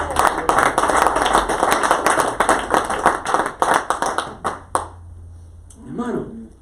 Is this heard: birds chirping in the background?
no